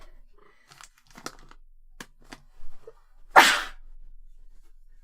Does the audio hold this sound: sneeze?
yes